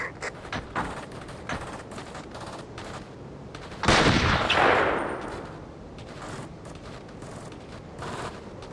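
Video game gunfire with snipers on a balcony: a series of sharp shots across the whole stretch, then one loud booming blast with a long fading roll, no talking.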